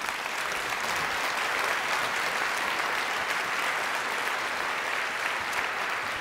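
Applause fills the room after a workplace presentation at a Latvian event, a steady, dense wash of many hands clapping, moderately loud and continuous with no speech over it.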